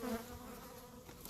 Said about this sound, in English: when we lift up the hive like this, there are a lot of bees in it